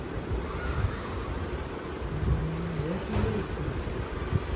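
An air cooler blows with a steady, loud, close whooshing rush of air that continues without a break.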